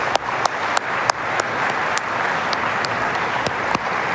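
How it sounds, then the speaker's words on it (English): A conference crowd at the DjangoCon Europe 2023 closing session claps loudly and steadily throughout, with a few sharp individual claps standing out above the dense, sustained applause. "can we give just everybody, including yourselves, a massive round of applause"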